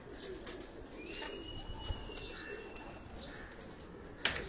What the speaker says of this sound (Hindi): ये टुकड़ी वाले कबूतर भी होते हैं यहाँ।